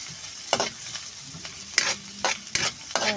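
Garlic, onion and ginger sautéing in a pan, a steady close sizzle with several louder stirring scrapes at irregular intervals.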